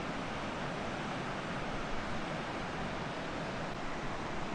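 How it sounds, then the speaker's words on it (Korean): Rapids of a mountain stream at Gurisso on a trekking route along a cliff path rush and churn like boiling water. The dense, unbroken roar holds steady throughout, fairly soft and with no voices. "여울 소리가 마치 가마솥에서 물이 끓는 듯 웅장하고 생생해서 예로부터 구리소라 불렸다고 하네요"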